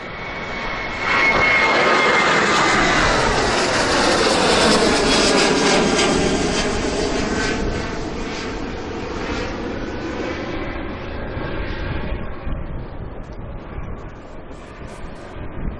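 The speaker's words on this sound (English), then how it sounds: "Ryanair to Paris" A Ryanair jet bound for Paris roars past at Manchester Airport, loud and close, its engine whine sweeping in pitch as it passes, then fading into a lingering rumble.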